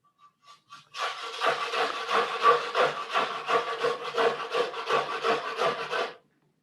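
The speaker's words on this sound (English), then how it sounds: "the sound of that ginger grating is so comforting to me" Fresh ginger is scraped against a hand grater in a steady rhythmic series of about a dozen close, rasping strokes, preceded by a few light taps.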